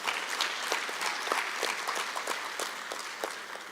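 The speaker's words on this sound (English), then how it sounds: "Can we give them a round of applause?" An audience at a national oral history conference applauds steadily, dense overlapping claps holding at an even level for several seconds.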